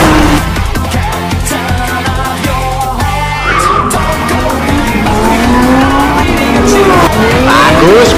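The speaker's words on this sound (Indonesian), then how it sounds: "Majulah hurakan, raungkanlah mesin VTEC-mu." A Lamborghini Huracan race car engine roars loudly during qualifying, its pitch rising and falling through gear changes, with tire squeal mixed into a dense, continuous wall of sound.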